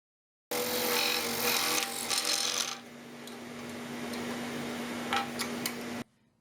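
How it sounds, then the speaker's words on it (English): A scroll saw cuts a small compartment out of a wooden box blank. Its buzzing, rapid reciprocating blade is loud at first, then eases into a quieter steady hum before stopping abruptly. "then here with the scroll saw, I cut a small compartment"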